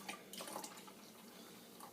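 Fizzing Pepsi freshly poured into a cup, a faint soft crackle of popping bubbles, close but quiet, settling gradually.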